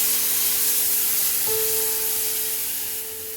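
Poppy seeds hit hot oil already spiced with whole cinnamon, green cardamom and cloves, giving a steady, even sizzling hiss close by, with a faint tonal hum from the kitchen running underneath.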